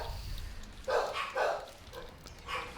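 Dogs barking nearby in a few short bursts, two louder woofs followed by quieter yips, over low background noise with no talk.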